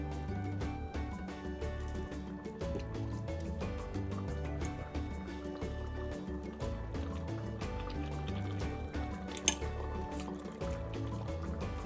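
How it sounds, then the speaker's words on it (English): Water is poured steadily into a boiling pot of Tunisian spiced lamb shank stew, a continuous liquid fill under a bed of background music. "I'm gonna add the rest of the water until we cover the lamb shank."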